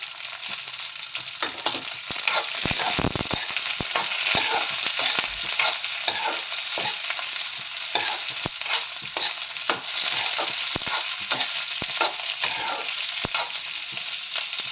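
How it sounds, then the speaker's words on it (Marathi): Ivy gourd (tondli) frying in a pan gives a steady close sizzle, broken again and again by sharp scraping stirs, with no talking. "मी आता यावरती तोडली घालते तोडली आपण सगळ्यात आधी फ्राय करून घेऊ"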